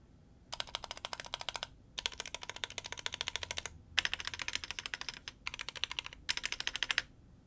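Rapid typing bursts on an Ajazz AC064 mechanical keyboard with a lubed spacebar, close and clear, arriving in several runs of dense clicky keystrokes separated by short pauses.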